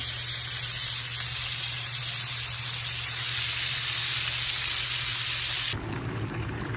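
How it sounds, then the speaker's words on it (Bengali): Shrimp being fried as bhuna in a pan, with a steady, loud hiss and sizzle that holds throughout, then drops abruptly to a softer, lower sizzle near the end. "এইখানে আমি চিংড়ি মাছ ভুনা করতেছি"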